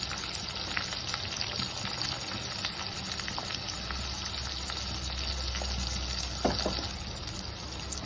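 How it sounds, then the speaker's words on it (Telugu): Green chillies, curry leaves, onion, carrot and green peas frying in oil for ragi flour upma, a steady close sizzle running without pause, with a few faint stirring clicks and no voices. "బ్రౌన్ కలర్ వచ్చే వరకు వేయించుకోవాలి"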